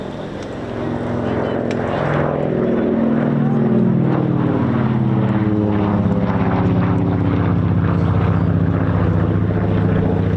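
A Lockheed 12A twin-engine propeller aircraft at an airshow throbs loud and near, with a rich layered engine drone that swells and holds. A voice talks over it.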